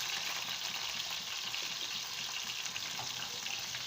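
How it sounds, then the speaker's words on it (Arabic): Chicken frying in a pan for browning, giving a continuous close hiss and crackle of hot oil that holds steady throughout, with no voices. "بس انا حطيت الفراخ عشان احمرها"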